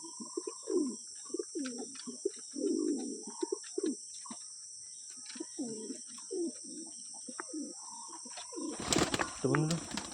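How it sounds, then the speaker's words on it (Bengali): Pigeons kept at a house coo in repeated low, throaty bursts close by, with a few chirps, over a steady high electrical hum, and a short flutter of wings near the end. "কিন্তু শার্টিনের সাথে জোর দেওয়ার মতো কোনো পায়রা নেই এখন বাড়িতে, এই জন্য সারাদিন দুজনে মারামারি করতে থাকে,"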